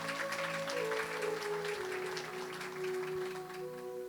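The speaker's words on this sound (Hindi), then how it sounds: "ऐसे महामानव के लिए अगर जोरदार तालियां हो जाए और भला क्या चाहिए" An audience applauds at a Jain Vihar Seva group gathering, a soft, steady patter of many hands clapping at a distance beneath sustained musical tones.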